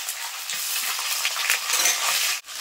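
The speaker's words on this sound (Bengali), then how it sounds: "আদা আর রসুনটা কিন্তু একটু ভাজা ভাজা করে দিয়েছি" Ginger and garlic paste fries in oil with cumin and bay leaf for a Bengali pabda fish curry, a close, continuous bright sizzle with light stirring scrapes that breaks off abruptly near the end.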